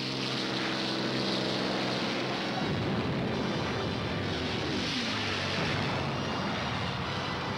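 A P-51 Mustang propeller fighter plane, the F-51 fighter bomber, drones with a loud, continuous engine and propeller roar, broadband and steady, rising slightly in pitch midway with no voices.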